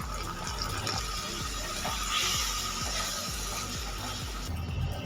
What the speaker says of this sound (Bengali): এইবার এর মধ্যে পরিমাণ মতো জল অ্যাড করে দেব।